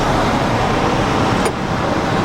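Steady broadband rush of airflow around a Krosno glider in flight with its airbrakes about half extended, loud and continuous throughout with a brief hiss near the middle.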